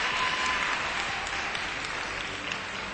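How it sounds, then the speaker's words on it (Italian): An audience applauds a contestant at a hairdressing competition, a steady dense wash of clapping that fills the whole stretch at even loudness with no voices on top. "Un grande applauso allora per Alessandra."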